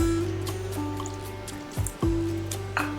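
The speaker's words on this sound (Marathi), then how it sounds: "आता यामध्ये थोडंसं पाणी टाकायचं आहे आपल्याला" Water is poured into a mixer jar holding chutney ingredients and crumbled dhokla, giving a few short splashes and drips over a steady background hum.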